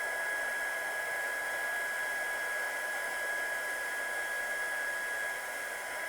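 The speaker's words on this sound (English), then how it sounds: "So I'll just heat set this one quickly." Heat tool blows steadily to heat-set ink on a handmade card, a constant close whooshing hiss with a faint whine that continues unbroken throughout.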